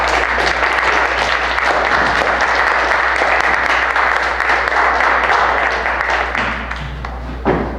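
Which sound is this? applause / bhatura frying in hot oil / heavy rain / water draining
applause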